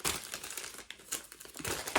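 Soft crinkling and crumpling of a plastic package being opened by hand, a mini USB vacuum cleaner inside, in quiet, irregular rustles and small tearing bursts.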